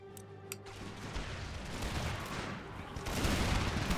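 Musket volleys in an Empire: Total War mod battle, ragged crackling shots rolling across the field at middle distance, building into a louder, denser fusillade toward the end, with no talk over them.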